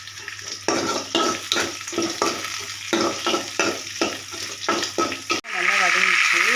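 Vegetables sautéing in a pan for keerai poriyal, a steady sizzle with rhythmic scraping stirs about every half second, close and loud, ending in a louder hiss.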